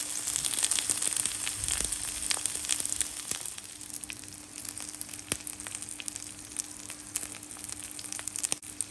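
Bottle gourd leaf paturi with prawns frying gently in a pan, giving a steady soft sizzle with light crackles and occasional scraping clicks, quiet and close with no talk.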